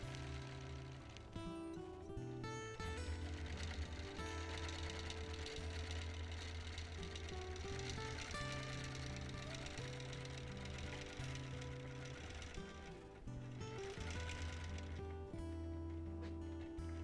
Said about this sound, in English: I'm just taking a second to stitch down the bits of his white tail.